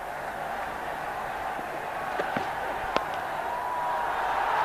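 A packed cricket stadium crowd at the 2007 India vs Pakistan ODI in Gwalior roars for Sachin Tendulkar's fifty: a steady, dense wall of cheering with a few sharp claps and whistles, swelling louder toward the end.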